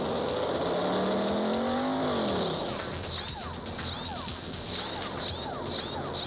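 A NASCAR Winston Cup race car roars past, its engine pitch rising and then dropping sharply as it goes by, followed by more distant cars and crowd-like noise, with a voice talking over part of it.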